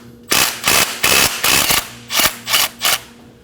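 A ratchet with a 12mm socket loosens a bolt on a 2011-2016 Kia Optima during starter replacement, giving seven close, rhythmic bursts of rapid clicking with short pauses between strokes.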